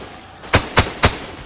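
Three single rifle shots ring out in the Beyond Sandbox video game, evenly spaced about a quarter second apart, sharp and loud over a quiet background.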